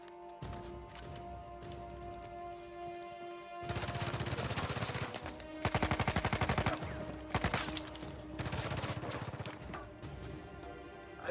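Heavy gunfire in Uncharted 4 during a rugged-terrain firefight: steady background rumble, then loud stretches of rapid automatic shots and dense volleys, with a short sharp burst near the end.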